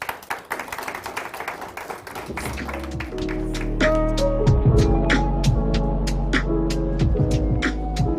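A burst of audience applause at a women's brand awards event in Kenya, dense clapping for a couple of seconds that gives way to music with a steady low hum.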